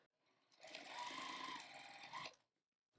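A sewing machine stitching binding on an argyle quilt, running in a steady, fast mechanical whir for about two seconds before stopping, close and alone.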